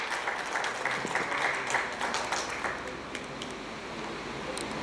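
An audience at a Rotary district governor's official visit in Bundi applauds a guest, a steady dense roar of clapping that swells early and then slowly eases.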